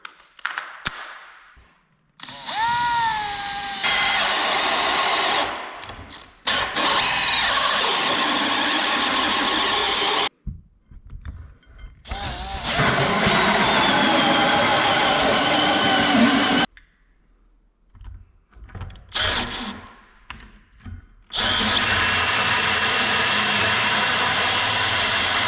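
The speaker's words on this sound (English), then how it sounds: "Let's make a hole. Using my favourite hole saws again." Hole saws bore through material during plumbing work on a passive-solar SIP house, the drill's loud whirring grind running in several long bursts separated by short silences, with no talk.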